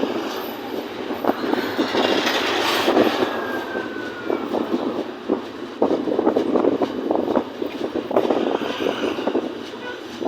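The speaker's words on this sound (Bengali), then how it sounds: "এই গাড়ির চাইতে ট্রেন আরো ডবল স্পিডে আছে উপরে থেকে বোঝা যাইতেছে না" A train runs along the Padma Bridge rail line, a loud continuous rumble with rhythmic clattering of wheels, heard nearby from a passing road vehicle with a voice speaking briefly.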